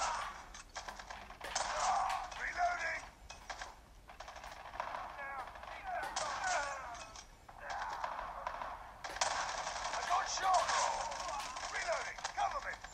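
Rapid bursts of automatic gunfire from an unscoped weapon in COD Mobile, firing in several clustered volleys with brief pauses between them, close and fairly loud throughout.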